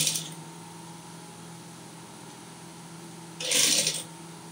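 A sewing machine stitching a skirt pocket seam gives a short whirring burst, then a quiet mechanical hum, then a second brief burst close by, with no talking.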